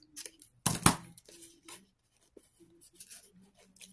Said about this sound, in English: Let me go ahead and cut these parts so you can see that better